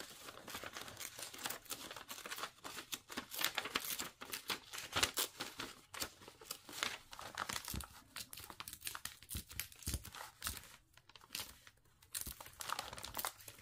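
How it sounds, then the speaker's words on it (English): Paper torn by hand around a shape for a handmade junk journal cover, a continuous close run of crinkling, rustling and ripping with small uneven bursts, heard alone without talk. "let's tear this around"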